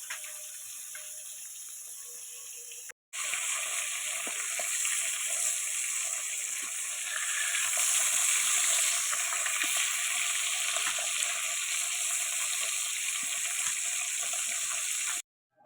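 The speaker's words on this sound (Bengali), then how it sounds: "আর এই তো মাছ ভাজা বসিয়ে দিয়েছি" Fish frying in hot oil in a pan, a dense, steady, close sizzle that runs on for a long stretch after a brief cut near the start, with faint crackles throughout.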